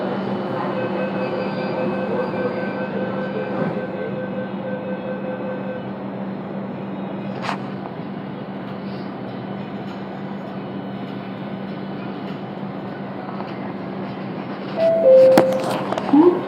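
Metro train running between stations on a suburban line, a steady rumbling drone with sustained tonal whine and a sharp squeal near the end, heard from inside the carriage with no talk.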